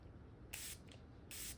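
Two short bursts of makeup setting spray, each a bright hiss lasting about a quarter second, the second coming near the end, close and clear against a quiet room.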